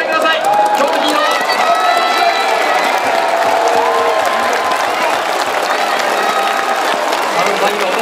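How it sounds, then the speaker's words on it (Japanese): A large crowd at Kiyohara baseball stadium, during a Giants versus Hiroshima game in 2014, cheers and shouts in a loud, sustained roar for a hero interview, with many overlapping voices and no pause. "地元のヒーローを大歓声でお迎えください"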